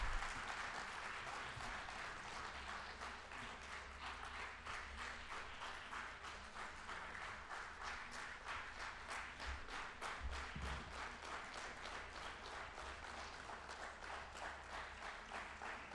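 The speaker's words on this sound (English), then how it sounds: "Please give a huge round of applause for Dada." A conference audience at a national female officers' gathering breaks into sustained applause, dense steady clapping that continues evenly throughout at moderate volume.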